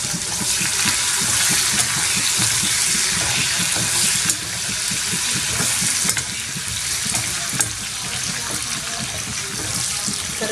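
Garlic sautés in leftover oil from frying fish, made into a fish pickle. A loud, dense, steady sizzle and crackle carries on throughout with no voices.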